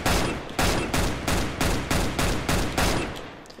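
A Tech-9 pistol in a video game fires in steady taps: about ten sharp, loud shots at an even rhythm, each ringing out briefly before the next.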